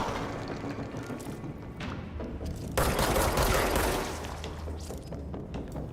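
Dense bursts of gunfire and heavy thuds from the video game Control, a continuous loud barrage with a sharper, louder stretch in the middle.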